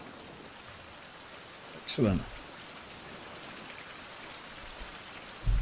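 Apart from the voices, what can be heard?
rain falling in survival video game Fountain of Youth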